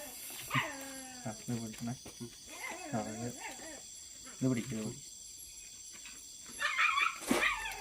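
A puppy yips and barks several times in short bursts, mixed with whimpers, while people talk nearby and insects hum faintly.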